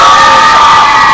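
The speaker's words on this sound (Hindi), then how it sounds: "अरे बच्चे लोग चिल्लाओ" Children in a crowd at a music launch event shout and cheer loudly together in a dense, continuous roar.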